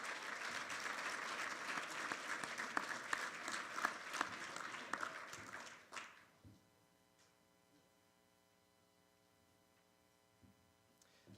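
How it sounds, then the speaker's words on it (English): An audience at an annual meeting applauds honorees with a full, sustained round of clapping that fades out after about six seconds. A quiet room follows, holding a low electrical hum and a few faint knocks. "Let's give one more round of applause"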